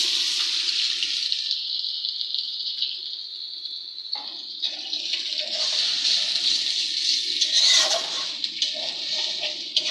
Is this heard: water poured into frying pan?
yes